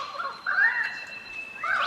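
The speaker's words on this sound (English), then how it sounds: "In my stereo headphones, this bird is like moving around." A turkey-like bird gobbles in warbling, rattling bursts, with a louder run in the middle and another at the end, clear and close against a quiet background.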